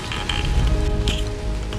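Steady rain falls on a steep mountain trail, a dense continuous hiss close by with no voices over it.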